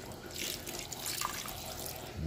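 A small splash of water poured into a pot of Filipino paksiw, a short steady trickling pour close by with no talking.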